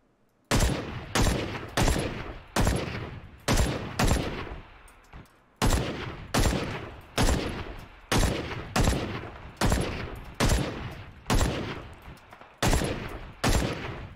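Rapid bursts of AK rifle fire in a PC first-person shooter, about a dozen loud, closely spaced volleys with brief pauses between them, each burst ringing out sharply and close, with no talking over the shots.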